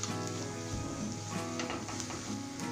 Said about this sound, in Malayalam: കറിവേപ്പിലയും കൂടെ ചേർത്ത് നന്നായിട്ടൊന്ന് വഴറ്റിയെടുക്കാം.